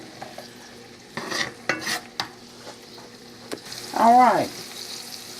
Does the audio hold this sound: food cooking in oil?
yes